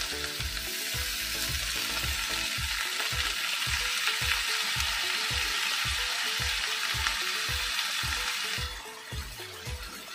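Green chili and squash hit hot oil in a pan with a loud continuous sizzle, punctuated by a steady rhythm of low stirring scrapes, before the hiss drops away abruptly near the end.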